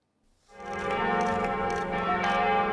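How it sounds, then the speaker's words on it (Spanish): After a moment of silence, the large bells of Notre Dame cathedral in Paris start ringing and swell into a sustained, resonant peal that fills the air. "Este es el nuevo sonido de las campanas de Notre Dame."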